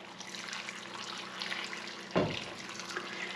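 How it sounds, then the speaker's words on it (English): Warm water runs from a tap into a pot over meat, a steady close splashing stream with a brief louder gush partway through, no voices. "Fill it up with warm water until you cover"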